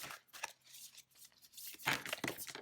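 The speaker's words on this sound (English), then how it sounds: "these are so hard to shuffle" A deck of tarot cards is shuffled with uneven bursts of papery riffling and flicking, close and soft, building to denser crisp flutters toward the end.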